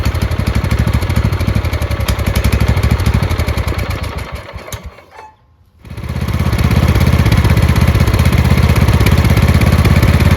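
A Craftsman LT2000 lawn tractor engine runs at a steady idle without surging, loud and close. It dips briefly toward silence midway, then returns to an even drone.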